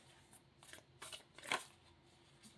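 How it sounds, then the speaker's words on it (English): Deck of playing cards shuffled at close range, a few quick riffling bursts with a sharp fluttering snap near the end, quiet overall. "Let's give it a little bit of a shuffle right here."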